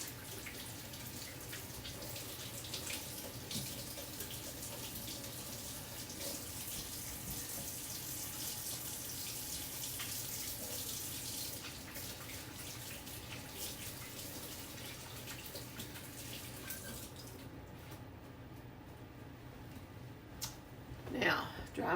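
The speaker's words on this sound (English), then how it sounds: "let me wash my hands." Kitchen tap running steadily while hands are washed during cookie baking, a faint continuous stream of water that stops near the end with a small clunk.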